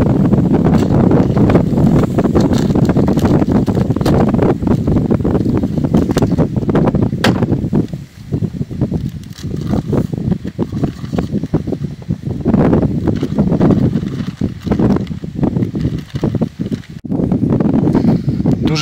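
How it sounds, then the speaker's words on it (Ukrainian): Strong gusting wind roars and buffets the microphone continuously at a lakeside in the woods, with a brief lull partway through before the blustering returns. "Дуже сильний вітер, просто нереально"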